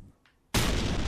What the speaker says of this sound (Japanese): 電車から爆発音がした